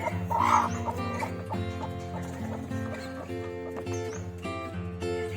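A domestic hen settling onto a clutch of about fifteen eggs to brood makes repeated soft, close clucks and throaty murmurs, fairly quiet and continuous throughout.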